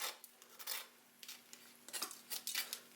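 A utensil scrapes over crispy roast chicken skin in short, quiet crackly strokes, about eight or nine scratchy bursts spread unevenly with a faint steady hum behind them.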